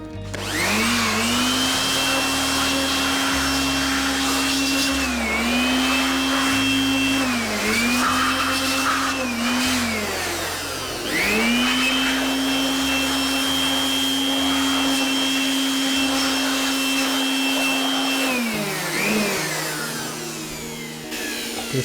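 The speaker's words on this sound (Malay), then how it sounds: "Sebelum kita buka ni pun kita sembuh dulu lah." Air blower cleaning dust out of an old desktop PC: a loud whining motor with a rising and falling pitch as it is triggered in several long bursts, with brief dips between them.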